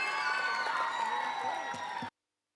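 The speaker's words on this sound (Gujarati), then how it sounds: "એકવાર જોરદાર તાળીઓથી વધાવીશું આપણે." An audience at a school staff thanksgiving ceremony gives loud, sustained applause with cheering and whoops for about two seconds, and then it cuts off abruptly to silence.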